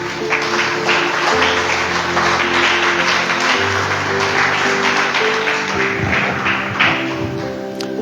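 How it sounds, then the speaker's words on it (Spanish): A church congregation claps for the Lord, with a dense patter of hands over sustained organ or keyboard chords and a few heavier thumps. "Dale un aplauso grande al Señor."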